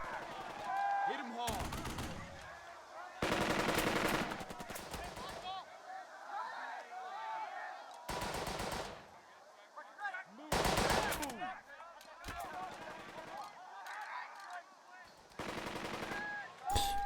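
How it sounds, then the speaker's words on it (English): Machine guns rattle in a World War II battle, firing in repeated loud bursts of rapid shots. Each burst lasts a second or two, with short quieter gaps of distant battlefield noise between them. "Isn't the machine gun already activated?"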